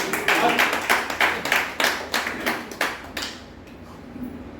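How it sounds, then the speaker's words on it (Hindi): Clapping from an audience at a charitable organisation's gathering, loud rhythmic bursts of hands that fade out near the end, leaving a quieter room. "इस पर तो तालियां सबकी चाहिए।"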